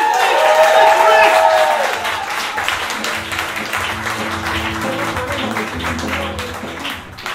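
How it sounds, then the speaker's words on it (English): Audience applause greets a comedian taking the stage at a stand-up showcase, a dense wash of clapping that is loudest at first and then settles into a steady, slightly thinner patter that carries on to the end, with no talk over it. "Give him a warm round of applause."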